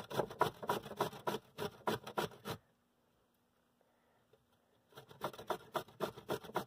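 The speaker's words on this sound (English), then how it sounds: "Grate that stem down until all you're left with are the florets." A broccoli stem being grated, with a rapid series of close, rasping strokes, then a pause of near silence of about two seconds before the scraping starts again.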